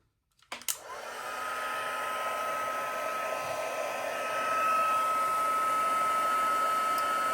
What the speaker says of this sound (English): Takes a minute for my heat tool to warm up.